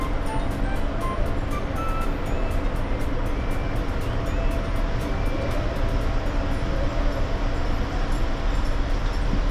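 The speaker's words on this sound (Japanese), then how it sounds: "モーター音も楽しめますよ。" A JR Central 211 series 5000 train on the Chuo Line runs with its traction motor droning steadily, a loud continuous rumble and whine with rhythmic rail clicks throughout.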